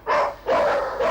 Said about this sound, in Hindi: बाहर कुत्ते किसी पर टूट पड़े